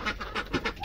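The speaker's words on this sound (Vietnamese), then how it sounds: "bọn vịt hôm nay lên tận đây luôn nhá" Farm ducks quack close by in a quick run of several short, nasal calls.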